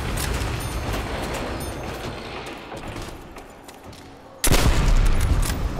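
Gunfire in Call of Duty: World at War Nazi Zombies, a dense, continuous rattle of shots with a sharp louder burst near the end, loud and close throughout.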